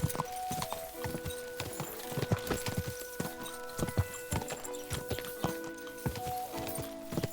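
Steady clip-clop of horse hooves plodding along at a walking pace in the video game Kingdom Come: Deliverance 2, with a few soft whinny-like tones and light background ambience.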